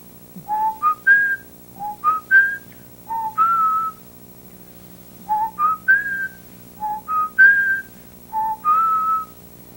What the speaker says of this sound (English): here's the family whistle.